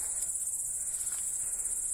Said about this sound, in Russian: Как чирикуют? Сверчки или кузнечики, не знаю кто.